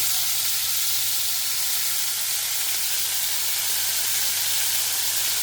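Pre-cooked cluster beans with salt sizzle steadily in a hot pan while being sautéed, a continuous, even hiss and crackle from start to finish with no voices.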